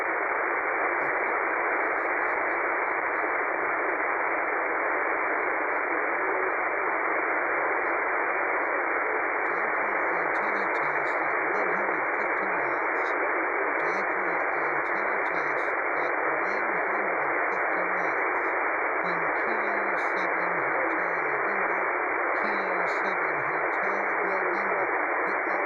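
A faint shortwave signal from New Zealand, picked up on a dipole antenna, sits buried in loud steady band-limited hiss, with weak fluttering voice-like traces showing through the noise.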